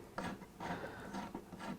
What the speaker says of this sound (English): the drill is quite fragile, and it soon makes short work of going through the plastic